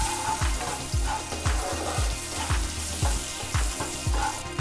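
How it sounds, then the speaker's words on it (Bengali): Egg curry ingredients fry over a low flame in a steady, close sizzle, with rhythmic stirring strokes scraping the pan about every half second and no voices. "এবার এটাকে আমরা জাস্ট হালকা আঁচে একটু ফ্রাই করে নেব।"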